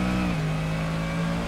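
S5000 open-wheel race car at Tailem Bend in Assetto Corsa, its engine droning steadily with a sustained, slightly shifting pitch, loud and continuous for the whole moment with no voices.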